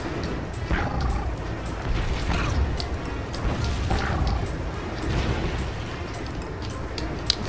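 Explosions and crashes keep booming in a continuous noisy Donkey Kong Country Returns game mix, several heavy hits spread across a steady roar.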